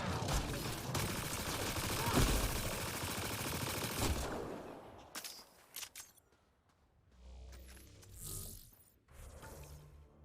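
Sustained automatic gunfire and fusillade from a firefight in the video game Mass Effect Andromeda, loud and dense for about four seconds, then breaking into scattered shots, impacts and mechanical game effects.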